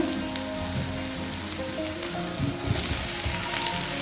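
Boiled potatoes going into frying masala for aloo kurma, a close, steady sizzle and crackle of oil with a few soft thuds and stirring scrapes partway through, no talk.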